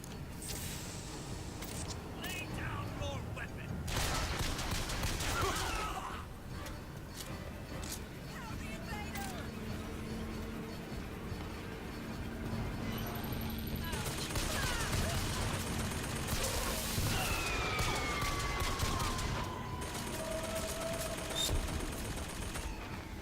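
Sustained gunfire from a weapon in the video game BioShock, with bursts and scattered shots over dense game noise and clanking, while someone talks throughout.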